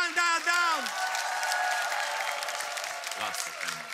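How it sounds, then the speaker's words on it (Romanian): Applause and some cheering from a television studio audience rise under a presenter's shouted voice, with clapping continuing steadily while short vocal calls break in near the end. "aplauze!"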